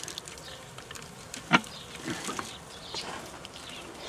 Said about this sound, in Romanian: acum să scutură această albinuță